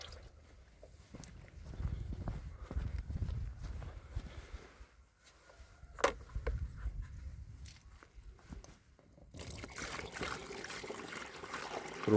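Rainwater scooped from a barrel and poured into a garden sprayer outdoors, heard as intermittent trickling and splashing with handling clatter and a few footsteps, fairly close.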